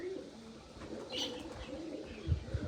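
Soft pigeon coos murmur close by against a low, busy background, with a few faint thumps toward the end.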